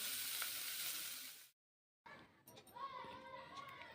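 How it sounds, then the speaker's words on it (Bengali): Bitter gourd frying in a pan, a steady loud sizzle for about a second and a half that cuts out, followed by quieter kitchen sounds with a voice talking. "তাই করলা ভাজা রান্না করছি"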